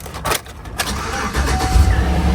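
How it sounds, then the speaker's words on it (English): A 2010 Chevy Trailblazer engine cranks briefly and catches, then settles into a low, steady idle close by. "Let's put the key in the ignition."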